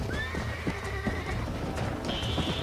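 A horse in Red Dead Redemption whinnies with a rising call, with steady clip-clopping hooves running throughout and a second high, sustained neigh near the end.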